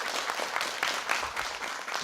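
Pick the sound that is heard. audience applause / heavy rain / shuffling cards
audience applause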